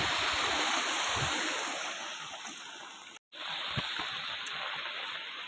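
River swollen into flood after heavy monsoon rain, a dense steady roar of rushing water with a brief dropout midway, loud and close with no voices.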